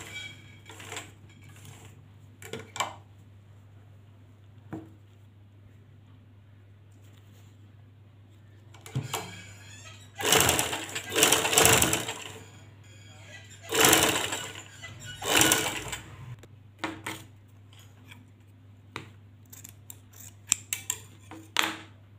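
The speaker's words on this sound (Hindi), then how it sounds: "अभी मैंने इसको सिंगल सिलाई लगाया, अब मैं यहाँ पे इसकी डबल सिलाई भी लगाती हूँ।" A sewing machine double-stitches lace onto a baby girl's frock in short, intermittent bursts of rapid whirring, with the busiest runs in the middle and quiet handling clicks and pauses in between.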